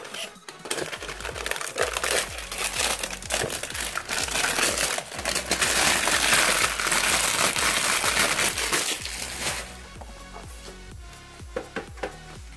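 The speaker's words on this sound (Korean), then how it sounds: "이제 파워를 개봉을 해보죠" Plastic sealing being torn off a boxed PC power supply: sustained crinkling, rustling and crackling of film, close and busy. It fades to sparse small taps and handling clicks near the end, with no talking.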